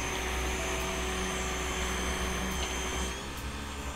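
A Greenworks 40V battery pressure washer runs steadily throughout, a continuous motor and pump whine with a constant tone, fairly close, no talking over it.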